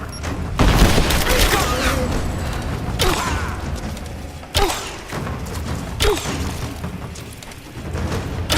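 Gunfire and heavy impacts in the video game Rise of the Tomb Raider: several sharp, loud bangs spaced a few seconds apart over a steady rumbling combat bed, with voices mixed in.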